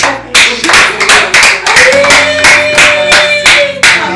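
A small group claps in a rhythmic, loud, close pattern of sharp repeated hand claps, with a voice partly audible beneath.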